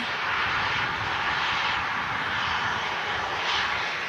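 A Ryanair Boeing 737 landing and using full reverse thrust, a loud sustained engine roar with broad rushing noise, steady throughout with slight surges.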